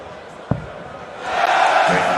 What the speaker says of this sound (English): the Dutch crowd showing their appreciation for the Northern Irishman